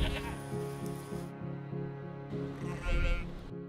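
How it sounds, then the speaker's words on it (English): Goats on Orchid Island, Taiwan, bleat in a few wavering calls over a continuous background hum, fairly faint and without speech. "sometimes it feels like this place has more goats than there are humans"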